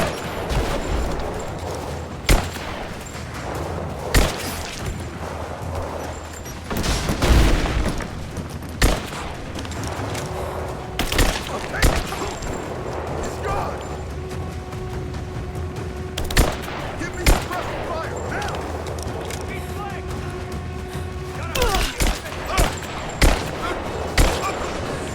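Gunfire in Rise of the Tomb Raider, sharp individual shots and bursts cracking at irregular intervals over a steady background rumble, with a few heavier booms spread through the long stretch.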